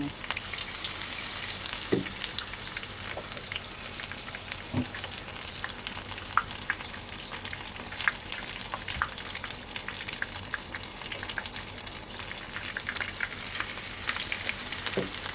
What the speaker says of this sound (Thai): เราก็เอาหัวปลี ทอดเลยค่ะ ชุบแป้งให้ทั่วแล้วก็ทอดลงไป